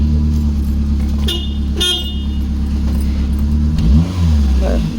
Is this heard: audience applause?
no